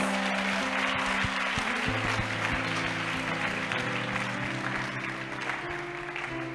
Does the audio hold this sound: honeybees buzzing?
no